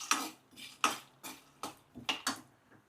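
Peanuts being stirred in a pan of hot oil for peanut chutney, heard as a series of sharp metallic scrapes and clinks of a utensil against the pan, about seven close strokes in an uneven rhythm, with faint sizzling underneath.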